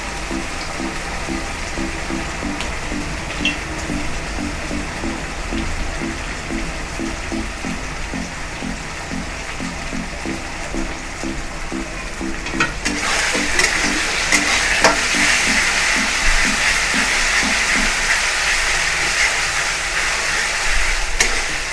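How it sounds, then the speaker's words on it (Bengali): Ginger sizzles in a little hot oil in a pan, with steady frying crackle and stirring scrapes; the sizzle grows louder and brighter about halfway through, with no talking. "আমি একটুখানি তেলে ফ্রাই করব"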